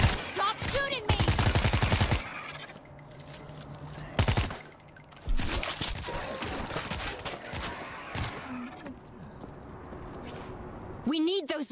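Gunfire in the zombie shooter World War Z, set in Marseille with the French Resistance: rapid automatic bursts early on and scattered shots later, mixed with shouted voices and game effects.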